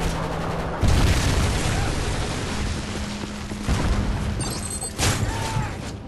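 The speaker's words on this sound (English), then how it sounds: "Friendly Predator missile inbound." Predator missile strikes in Modern Warfare 3 gameplay land as loud booming blasts, one heavy impact followed by rumbling explosions and further bursts over several seconds.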